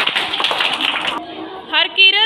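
A class of young children clapping together in a school classroom: a short burst of hand claps heard after someone speaks, followed by a young voice answering.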